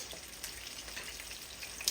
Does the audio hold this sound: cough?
no